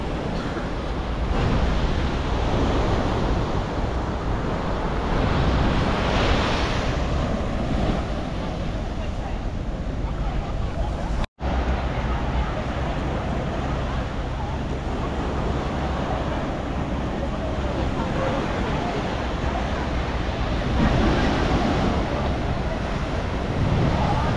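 Surf breaks on a beach at El Nido, a steady wash of waves mixed with strong wind buffeting the microphone, continuous and fairly close.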